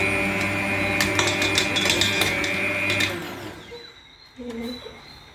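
Electric mixer beating butter for a cake, a loud steady whir with clattering that runs for about three seconds, then cuts out, leaving faint clinks and a brief short tone.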